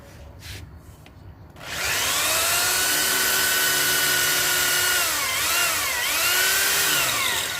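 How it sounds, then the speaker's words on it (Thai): A drill bores a small pilot hole into a steel bar for a van tailgate lock, starting after a short quiet moment and then whining continuously and loudly, its pitch dipping slightly as it bites into the metal. "อันนี้คือเจาะรูอีกอันหนึ่ง ต้องเจาะเล็กๆก่อนนะคะ"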